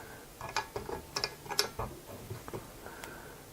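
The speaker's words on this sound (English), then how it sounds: "I'm going to loosen these set screws just a hair" Small metal clicks and ratcheting ticks from an Allen key loosening set screws on a Prusa i3 MK3 Y-axis belt pulley, a quiet, close, irregular series of taps.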